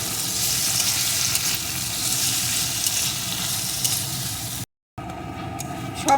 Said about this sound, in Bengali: এখন এই সমস্ত কিছু সুন্দর করে কিছুক্ষণ ভেজে নেবো